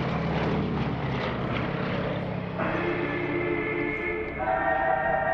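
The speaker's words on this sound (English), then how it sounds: "That is a radial engine up front, a Bandinav MV-14." A Sukhoi Su-26 aerobatic plane with a nine-cylinder radial engine performs at an airshow, its engine a steady loud rumbling drone with pitch shifts as it maneuvers, heard from the ground.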